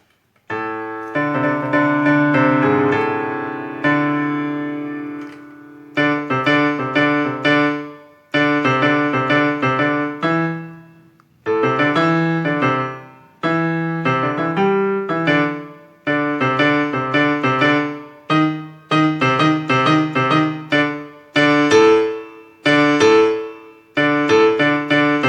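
Second verse of a song recreated on a Yamaha PSR-S670 keyboard, with sustained chords giving way to punchy, rhythmic stabs and melody phrases in short bursts separated by brief gaps, loud and close with no talking.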